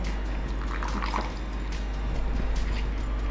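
Water trickles and drips into a potato kebab mixture in a kitchen, a soft liquid sound with a few faint squishes, fairly quiet and without talk.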